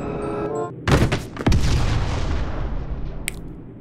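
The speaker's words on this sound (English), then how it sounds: "I'm gonna start the fight by shooting a missile at him" A missile launched in the video game Gorebox: a sharp booming launch followed by a second heavy blast that rolls into a long rumbling decay, loud and close, with no talking over it.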